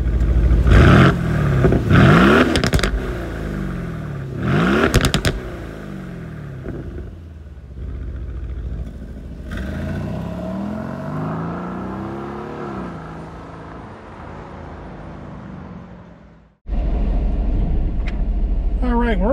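A 2023 Aston Martin Vantage F1 Edition revs hard in a parking lot, several sharp throttle blips rising and falling, then a longer pull as it drives off, loud and close with voices talking over parts.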